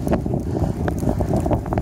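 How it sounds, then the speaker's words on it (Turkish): Steady, rough wind blowing outdoors in Edirne during heavy snowfall, a continuous low rumble with faint gusty flutter throughout, loud and close to the microphone. "Rüzgar da etkisini gösteriyor."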